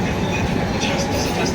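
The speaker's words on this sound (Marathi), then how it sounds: "फायनली आपल्याला ट्रेन तर भेटली आहे" A passenger train running on rails in the early morning on a return journey to Konkan, heard from on board as a loud, steady rolling rumble with faint rhythmic clatter and muffled voices underneath.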